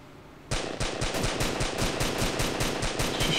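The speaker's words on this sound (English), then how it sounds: "Just shooting the hell out of that sun" Sustained automatic gunfire in Arma 2 DayZ: a rapid, steady stream of close, loud shots that starts abruptly and carries on without a break, with no talking.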